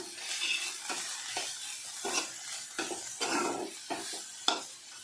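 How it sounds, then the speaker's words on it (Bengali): Taro stolons with small shrimp frying in a pan, stirred with repeated scraping strokes over a steady close sizzle, with no talk. "একটু ভাজা ভাজা হোক।"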